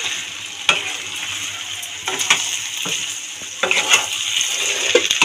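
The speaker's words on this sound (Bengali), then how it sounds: "চিনিটা দিয়ে এবার নাড়িয়ে নেব।" Fish-head chhyachra stirred in a hot pan after sugar goes in, giving a loud, close sizzle with irregular scrapes and clinks of the spoon against the pan and no talking.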